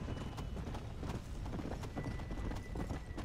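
Horse hooves clip-clop at a gallop in Red Dead Redemption: Undead Nightmare, a brisk, steady drumming beat at moderate volume under a wash of game background noise.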